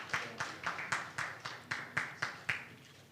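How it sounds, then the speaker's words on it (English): A small audience at a regional East African Community civil society dialogue forum claps in a steady, rhythmic beat. The applause is quiet and somewhat distant, with no voices over it. "A round of applause as she makes her way here."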